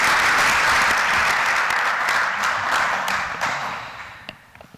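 Applause at a municipal council meeting: steady clapping from a room full of people, loud at first and gradually thinning out until only a few scattered claps remain.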